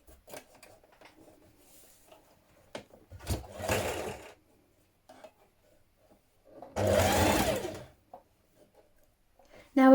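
A sewing machine stitching a narrow double-fold hem on a spring top, two short bursts of fast motor whirring separated by quiet pauses and small handling clicks.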